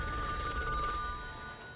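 An old-style telephone bell rings with a steady, bright metallic trill that stays loud and close for under two seconds, then begins to fade slightly, alone with no voices.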